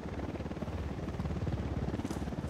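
Helicopter in the video game Ghost Recon Wildlands, a steady, loud rotor thump with a fast regular beat filling the whole moment, no talking heard.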